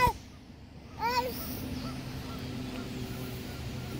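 Ducks at a pond give a couple of short, honking quacks, one right at the start and another a second later, fairly faint over quiet outdoor ambience.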